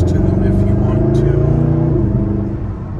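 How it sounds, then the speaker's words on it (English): A 2012 Mercedes-Benz SLS AMG coupe cruises with a deep, throaty engine drone on light throttle, close and steady, easing off slightly toward the end. "Not stepping on it at all, but these just have a throaty sound"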